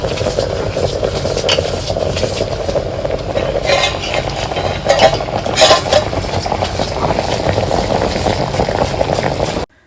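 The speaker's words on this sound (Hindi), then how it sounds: "केला रख दिया है उबलने के लिए" Bananas boiling in a pot on a new village chulha, a steady close bubbling and rumbling roll that runs throughout, with brief louder surges midway.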